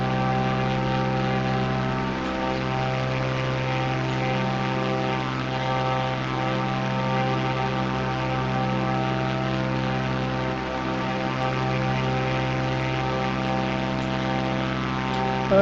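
A small propeller airplane cruises in a flight game over Polish airspace after taking off from Wrocław. Its engine drones loud, close and continuous, a steady harmonic hum with no voices.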